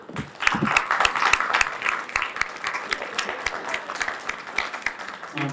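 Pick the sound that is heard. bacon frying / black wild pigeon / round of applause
round of applause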